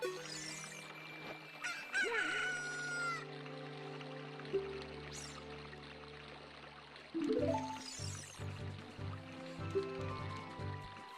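A chicken in The Legend of Zelda: Ocarina of Time gives loud, honking squawks and clucks, with a couple of sharp calls early on and a busier run of clucking later over steady game background sound.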